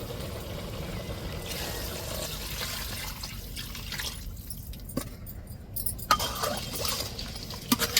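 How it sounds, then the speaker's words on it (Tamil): Water poured into a pan of simmering crab soup, a steady splashing pour through the middle, tapering into a few drips and clinks near the end, with no talking. "இப்போ நம்ம தண்ணி சேர்த்துக்கிறோம்."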